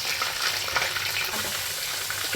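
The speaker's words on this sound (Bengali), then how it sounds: "পেঁয়াজগুলি আমি একটু ভেজে নেব।" Chopped onions sizzle in hot oil in a pan while bhuna khichuri is cooked, a loud, dense, continuous frying hiss that stays steady throughout.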